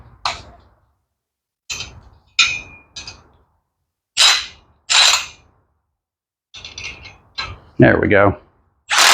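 A wrench tightens a bolt on a toy scooter being turned into a minibike, giving a run of separate ratcheting clicks and metallic clanks with silent gaps between them, close and loud. Someone speaks briefly at the start.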